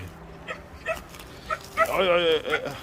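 A dog yips and whines near a goat pen set inside a chicken coop, giving a few short cries and then a longer whimpering call toward the end, with people talking around it.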